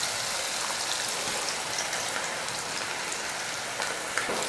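Pakoda batter made with idli batter and rice flour fries in hot oil, giving a steady, dense sizzle and crackle that stays even throughout.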